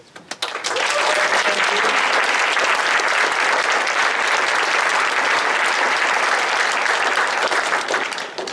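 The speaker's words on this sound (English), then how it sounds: "it's worth giving a round of applause again to all of the organizers" Loud, sustained applause from a large wilderness workshop audience, steady clapping that swells in quickly and holds for several seconds.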